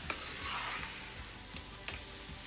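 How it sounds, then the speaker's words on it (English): Shrimp for Jamaican pepper shrimp sizzle steadily in a hot pan while being stirred, with a constant bright frying hiss and a few soft scraping strokes. "we're going to stir this up again"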